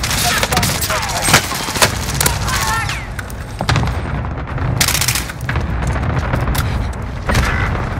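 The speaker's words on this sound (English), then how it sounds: "Allied cluster strike arriving." Cluster strike explosions and rapid gunfire in Call of Duty: Modern Warfare, loud booms and sharp bursts of shots crowding one another in quick succession, with a voice heard faintly among the blasts.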